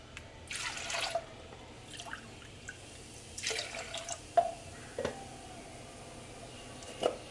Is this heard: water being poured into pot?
yes